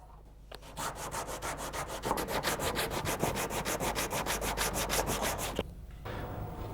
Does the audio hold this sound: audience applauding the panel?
no